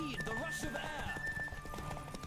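Horse hooves clip-clop in The Witcher 3, a brisk, even rhythm of fairly close hoofbeats. A horse whinnies near the start, and someone talks over the sound.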